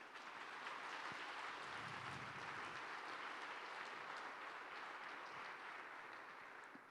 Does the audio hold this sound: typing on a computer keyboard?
no